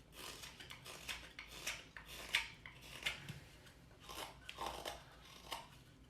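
A knife shaves the front of a hand-carved wooden spoon, giving repeated short scraping and slicing strokes at close range, some sharper than others, in an irregular rhythm with no talk.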